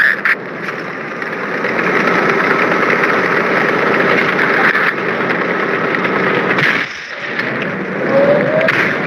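A damaged truck engine drones steadily in a video game, a continuous rough mid-pitched rumble that holds nearly unchanged throughout with a brief dip near the end.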